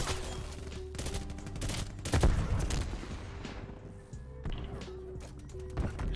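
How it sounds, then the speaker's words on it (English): AUG rifle fire in Black Ops Cold War comes in rapid clattering bursts, with several loud volleys and a heavier blast near the middle, against in-game background noise. "Bro, this AUG is nice, Jay."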